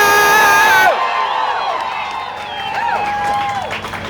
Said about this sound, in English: Today is a day to make noise, cheer, shout, and make our voices heard